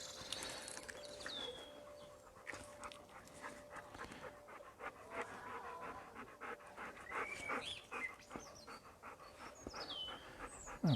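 A dog pants steadily and rapidly outdoors on a warm day, close and continuous for several seconds, with faint bird calls in the background.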